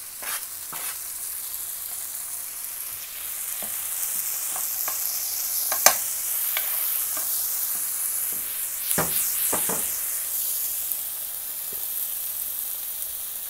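Salsa of garlic, chilies and tomato frying in a pan gives a continuous bright sizzle and hiss, close and fairly quiet, broken by occasional sharp pops and stirring clicks, with no voices.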